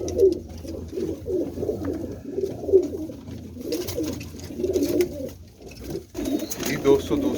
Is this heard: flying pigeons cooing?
yes